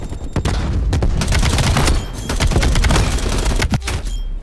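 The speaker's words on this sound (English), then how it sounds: "I'm just so trigger happy. I wasn't shooting at anything in particular." Sustained gunfire in Call of Duty Cold War multiplayer, with loud rapid bursts of automatic fire, heavier booms and short gaps between volleys, close and dense throughout.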